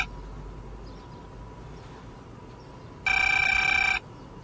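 A telephone rings once in a comedy film scene, a short steady electronic ring standing out over a quiet, hissy room background.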